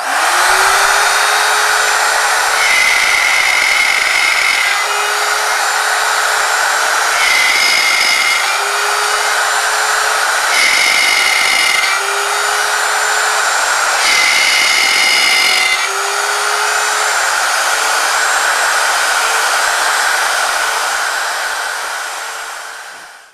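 A handheld router cutting dovetails on a Peachtree dovetail jig runs loud and steady for over twenty seconds, its whine rising and dipping in several surges as the bit bites into the wood, with no one talking.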